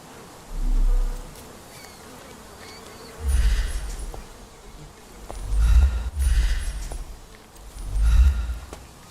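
In a Sherlock Holmes video game garden, bees buzz in several low swelling passes that come and go, fairly close, with no speech over them.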